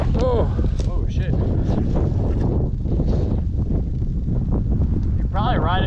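Wind whips across a hill, a loud constant buffeting roar against the microphone, with voices talking and shouting over it.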